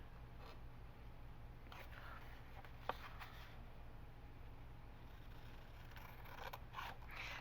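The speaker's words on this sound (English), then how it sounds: "I'll just use my scissors" Scissors snipping paper for an envelope journal, soft close crisp cuts and rustles, faint and intermittent against a quiet room hum.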